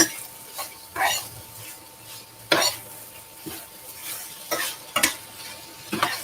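Peppers and other vegetables frying in a pan for a plant-based dish, a steady soft sizzle broken by repeated scraping stirs of a utensil against the pan at close range, with no talking.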